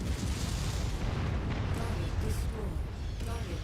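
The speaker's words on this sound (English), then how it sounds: "I'm gonna waste those artillery cannons real quick." Artillery cannons blown apart in MechWarrior 5 make dense, continuous booming blasts and crackling explosions that stay loud throughout, with no speech heard over them.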